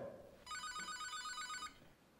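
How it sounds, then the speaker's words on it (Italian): A telephone bell rings in an Italian film scene, a single bright, rapidly trilling burst lasting about a second, with quiet room sound before and after. "Vado a rispondere al telefono."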